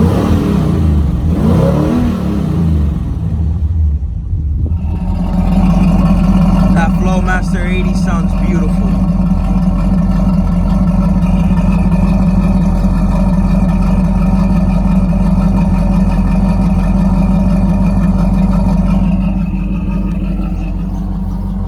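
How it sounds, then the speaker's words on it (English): Interior of a third-generation Camaro with a carburetted engine and long tube headers, revving loudly before settling into a strong, steady droning rumble that holds for most of the clip and eases slightly toward the end. "this car was equipped with long tube headers, so let me show you how this sounds from inside the cabin."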